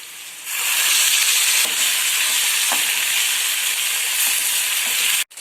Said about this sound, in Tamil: கோவக்காய் நல்லா வதங்கிடுச்சு